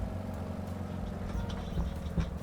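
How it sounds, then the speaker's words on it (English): A Beechcraft Model 17 biplane's radial engine drones steadily through a Cuban 8 aerobatic manoeuvre, a continuous low rumble with slight surges in strength, heard close and alone. "This is the Cuban 8. Listen to the engine."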